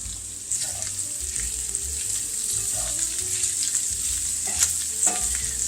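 Sliced green onions frying in a pan, a steady bright sizzle with intermittent scraping and clinks as they are stirred, close and continuous.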